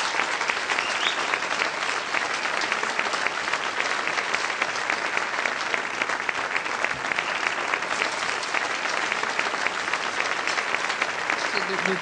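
An audience at an award ceremony honouring volunteer work applauds steadily and warmly, a dense continuous clapping from a room of people that lasts the whole time.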